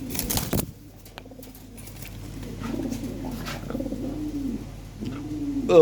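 Lahori Sirazi pigeons coo repeatedly in low, rolling phrases nearby, after a short burst of flapping wings at the start.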